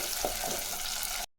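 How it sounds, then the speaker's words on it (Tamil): Curry leaves sautéing in oil in a pan, a brief close sizzle with soft stirring scrapes that stops abruptly. "அது கூடவே கறிவேப்பிலை போட்டுக்கலாம். இது நல்லா வதங்கினக்கட்டும்"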